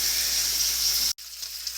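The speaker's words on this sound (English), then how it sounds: "Butter's melting over here, bacon frying over here." Steady, bright sizzle of bacon frying in a pan, loud and continuous with a brief cut partway through, then sizzling resumes.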